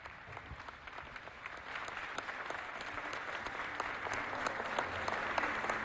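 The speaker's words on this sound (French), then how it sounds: "Sous vos applaudissements, on se met debout pour l'accueillir" An audience at a Chadian book presentation and signing ceremony applauds steadily as they stand to welcome the author, a dense, continuous clapping that swells slightly midway and holds to the end.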